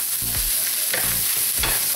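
Fried rice with celery being stirred and tossed in a hot pan, a continuous loud sizzle broken by three rhythmic scraping strokes of a utensil, close up.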